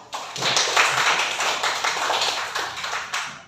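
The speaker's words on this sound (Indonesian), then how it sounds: "Tepuk tangan dulu" A class of students claps hands in a classroom, a close burst of uneven clapping that rises quickly, holds, then tapers off toward the end.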